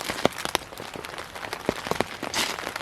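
Rain beginning to fall on a surface, a dense steady patter of drops with scattered sharper taps, close and fairly loud, with no voices.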